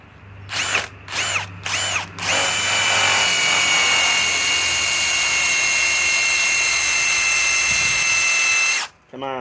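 A Ryobi PSBIW25 compact impact wrench on an 8 Ah 21700-cell battery fires in three short bursts, then runs in one long, loud, continuous high-pitched whine before stopping abruptly.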